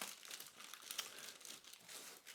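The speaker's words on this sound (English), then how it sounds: "lift off the clear plastic bag that's keeping it protected." Clear plastic bag rustling and crinkling as it is lifted off a RENPHO air purifier, a steady close-up crackle with small bursts throughout, no voices.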